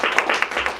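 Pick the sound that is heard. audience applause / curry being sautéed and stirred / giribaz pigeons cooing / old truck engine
audience applause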